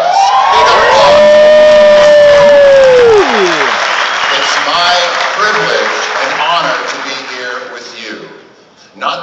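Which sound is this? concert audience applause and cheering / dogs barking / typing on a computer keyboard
concert audience applause and cheering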